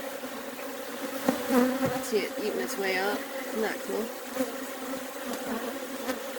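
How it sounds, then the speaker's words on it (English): Honey bees in a nuc box hum in a continuous close buzz while a baby bee emerges from its cell, with a person talking over the drone. "Here's the baby bee emerging, being born right there."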